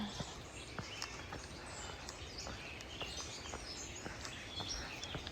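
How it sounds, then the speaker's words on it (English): Small birds chirp and call in morning woods beside an Appalachian Trail road walk, quick high scattered tweets repeating faintly over a soft, steady outdoor hush. "And the birds are being awful cute this morning."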